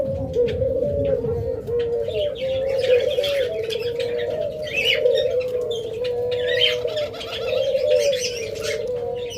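Caged pet birds in a bird shop, lovebirds, budgerigars and Java sparrows, fill the space with constant chirping, tweeting and soft cooing calls, a dense close chorus that carries on without a break.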